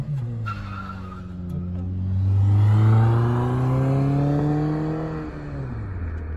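A fast car engine revs hard, its pitch climbing and swelling to a loud peak before easing off and dropping away, with a tire-squeal edge near the start.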